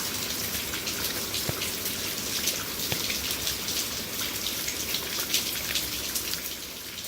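Steady rain falls close by during an outdoor diamond painting session, a dense, continuous patter of drops with occasional sharper splashes and no voices.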